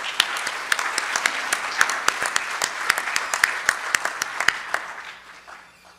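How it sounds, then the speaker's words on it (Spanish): Audience applause for presenters at a mining engineering lecture on hoisting plants, a crowd clapping steadily with sharp individual claps rising above the patter before it fades out toward the end. "Pido un fuerte aplauso para todos ellos"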